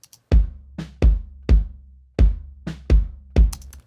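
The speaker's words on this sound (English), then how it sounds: "So this is the sound of the bass drum without the effect." Dry bass drum hits, about seven in a loose rhythm, each a punchy low thump that stops short with no reverb tail, close and alone.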